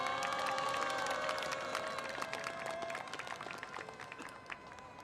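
Loud applause and cheering from a crowd at a labor protest rally in Korea, dense clapping with shouts and whistles carrying on steadily, fading slightly toward the end.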